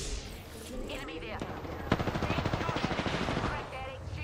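Rapid automatic gunfire from the shooter game Apex Legends rattles out in a quick burst of sharp repeated shots, fairly close, mixed with players' voices.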